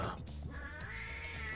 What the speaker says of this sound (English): damn cat.